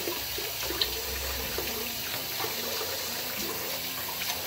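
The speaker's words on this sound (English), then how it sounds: "So, I just continue to run water on her to get the soap mostly off." Water runs steadily from a tap into a bathtub, rinsing soap off a cat, a close, continuous rushing and splashing with small irregular spatters throughout.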